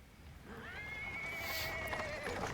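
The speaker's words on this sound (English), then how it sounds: "A cart drawn by a sad little horse appears around the corner." A small horse draws a cart along a paved street, whinnying in a long, wavering call with steady hoof clops beneath it, close and fairly loud.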